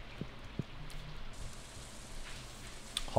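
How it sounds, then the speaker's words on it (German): Rain falls steadily in Stardew Valley as a soft, even hiss, broken by a few faint taps and knocks, with nobody talking. "Es regnet."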